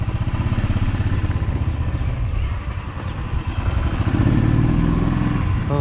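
A motorcycle rides along a road in Uttarakhand on a cold winter ride near Bhimtal, its engine a steady close rumble with wind noise, rising slightly in loudness toward the end.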